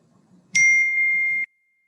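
A single bright notification ding rings out loud and close, holding a clear sustained tone for about a second before cutting off, over near silence.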